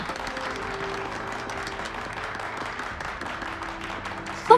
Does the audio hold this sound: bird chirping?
no